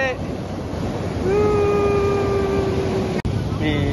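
Steady surf roars at Parangtritis beach, Indonesia, waves washing continuously with wind, while a voice rises briefly over the noise.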